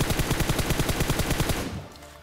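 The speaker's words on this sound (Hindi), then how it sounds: "जैसे जैसे क्लोज गए फायरिंग के साउंड बढ़ते गए" Gunfire in PUBG Mobile: a loud, close burst of rapid, evenly spaced automatic shots lasting about a second and a half before cutting off into quiet.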